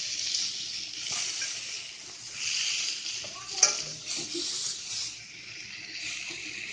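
Steak and peppers sizzle steadily in a hot pan, a continuous bright hiss with scattered pops and one sharp crackle near the middle, close and fairly loud, with occasional scraping stirs.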